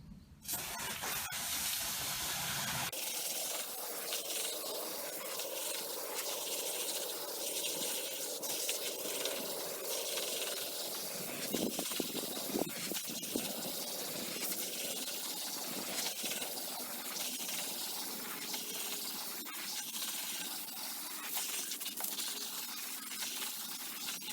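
A continuous hissing spray of water rinsing a Pentair cartridge pool filter runs steadily and close, a dense rushing sound that barely changes throughout.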